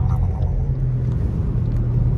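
A car driving on a wet road through Big Bear in a rain and snow mix, heard from inside as a steady loud low rumble with road hiss and no voice.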